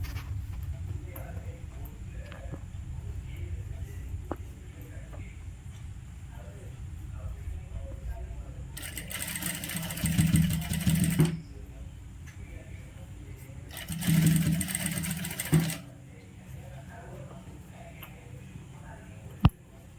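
A tailor's sewing machine stitches thin folded piping onto a churidar in two short mechanical runs of a few seconds each, separated by a pause, over a quiet room background.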